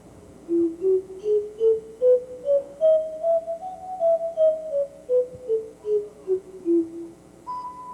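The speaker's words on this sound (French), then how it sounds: "faire siffler des bouteilles" Whistling bottles played as a musical instrument on stage, a clear melodic line of breathy whistled notes rising and then falling in steady rhythm, played alone with no talking.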